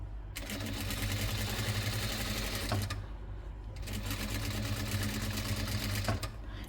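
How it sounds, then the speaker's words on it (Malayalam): A sewing machine stitching along the edge of canvas while sewing a plus-size nightie, running in two steady mechanical bursts of rapid needle chatter with a short pause between them, close and continuous. "ക്യാൻവാസിൻ്റെ ഈ അരികിലൂടെ സ്റ്റിച്ച് ചെയ്തെടുക്കാം."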